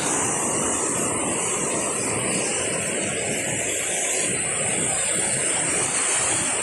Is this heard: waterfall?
yes